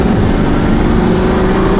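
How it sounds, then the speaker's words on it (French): Pagani Huayra Codalunga, a 840 hp hypercar, accelerating hard in second gear with its exhaust button pressed: a loud, dense, continuous engine roar with a steady low drone and no talk. "Allez, on va faire une petite accélération en seconde."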